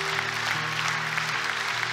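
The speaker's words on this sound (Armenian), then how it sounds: "եկեք ծափարենք իրանց" A church congregation claps together in a dense, steady patter of applause lasting the whole moment, with a sustained musical tone humming underneath.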